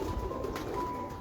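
Pigeons from a champion bloodline loft in Sialkot, Pakistan, coo softly and continuously at close range, with no talk over them.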